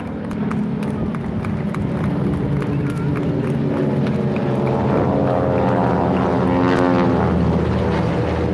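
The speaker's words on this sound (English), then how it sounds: "I don't know what kind of planes those are." Propeller airplanes fly over a military vehicle show, a loud continuous droning engine roar that builds and pulses as they pass, with crowd noise and scattered voices underneath.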